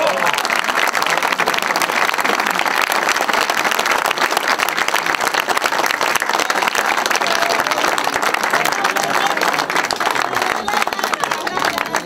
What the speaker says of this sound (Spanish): Un fuerte aplauso para María Semacada.